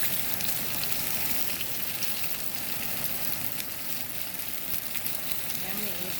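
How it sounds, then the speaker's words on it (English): Ground turkey and vegetables fry in a pan, giving a steady, close, crackling sizzle that stays even and hissy throughout, with no pauses. "So here it is cooking. Just letting it fry up."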